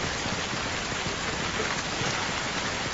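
Rain falls in a steady, even downpour, a continuous hiss of drops on surfaces with no voices over it.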